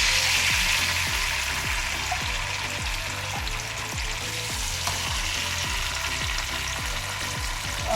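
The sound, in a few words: fish frying in a pan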